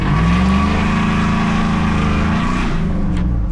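A GMC truck fitted with Scatpack mufflers, its engine revving loud and near in a deep, rumbling exhaust drone that rises, holds steady and then drops off at the end.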